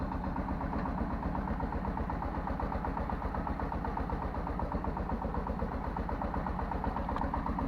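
Bulat belt-driven walk-behind tractor engine runs steadily in a potato field during harvest, a close, loud, continuous rapid chugging with no breaks.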